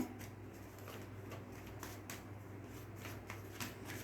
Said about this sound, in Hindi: एक कार्ड और लेते हैं।